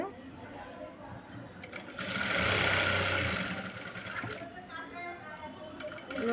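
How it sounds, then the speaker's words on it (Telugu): A sewing machine stitches the border of a blouse, its motor whirring loudly in a sustained burst mid-clip, with quieter handling before and after. "ఇది అనేది అంచు కుట్టేసుకుందాము లోపల సైడ్"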